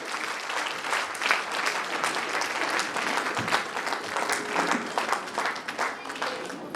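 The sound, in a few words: audience applause at a celebration event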